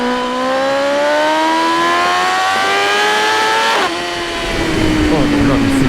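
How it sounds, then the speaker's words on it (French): A BMW M 1000 R motorcycle engine revs hard, its pitch climbing steadily with a shrill, strident intake whistle over the roar, then a brief dip at a gear change before it pulls again, loud and close. "Quand l'air rentre dans la boîte à air, le sifflement, on dirait une R6. C'est incroyable. C'est strident."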